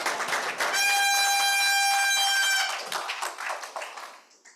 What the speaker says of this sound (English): Give Neha a big round of applause